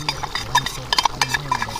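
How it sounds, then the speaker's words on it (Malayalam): Roasted coconut paste is added to a Kerala country chicken curry and stirred, making close, irregular scraping and clinking of a spoon against the pot in short bursts. "ഉണക്കത്തേങ്ങ വറുത്തരപ്പ്, അതായത് വെള്ളം ചേർക്കാതെ അരച്ചെടുത്ത വറുത്തരപ്പ് അങ്ങ് ചേർത്ത് കൊടുക്കുകയാണ്"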